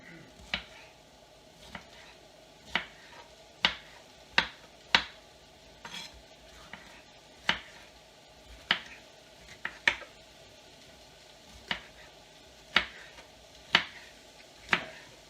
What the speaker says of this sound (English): Just finely chopping them so it's a bite size.